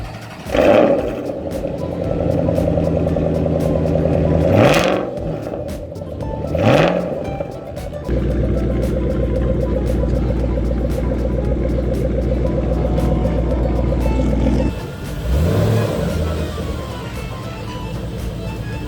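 Shelby GT500 V8 muscle car revving loudly up close, with sharp throttle blips that rise and fall in pitch, then a sustained deep rumbling idle and another rev burst near the end. No one speaks.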